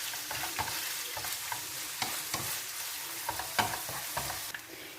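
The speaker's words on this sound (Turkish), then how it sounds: "Zeytinyağıyla birlikte önce kıymamı güzelce bir kavurayım" Steady sizzling and crackling of minced meat frying in olive oil in a hot pan, with occasional sharp pops and scraping stirs close by.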